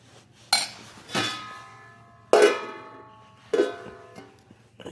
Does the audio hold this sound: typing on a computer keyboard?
no